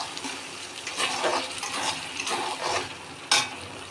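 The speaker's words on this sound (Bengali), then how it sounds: "এটাকে আবার নেড়ে ছেড়ে বেশ কিছুক্ষণ ভেজে নেব।" Tomato paste frying and being stirred in a pan for a pangas fish curry, with soft sizzling broken by scraping stir strokes and a sharper clink near the end, close and without talk.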